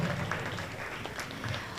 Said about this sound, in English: one more round of applause for Senator Schumer and Ambassador Nick Perry